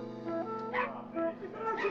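A dog yips and barks in a few short bursts over a steady, sustained musical backdrop, fairly close and moderately loud.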